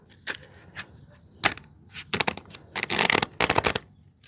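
Cards being shuffled in short bursts, with a few sharp flicks and then a quick run of riffling.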